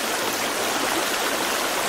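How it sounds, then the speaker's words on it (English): A waterfall in The Forest video game rushes in a loud, dense, unbroken roar of falling water, close and constant with no voices over it. "I went down the waterfall."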